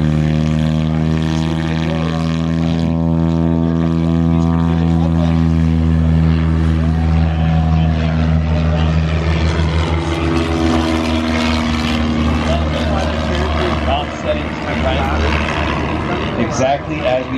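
A STOL propeller airplane at a Swamp STOL event takes off at full power, its loud engine drone rising in pitch as it accelerates, with the propeller buzz growing raspy and then fading slightly as it climbs away; a voice talks over it.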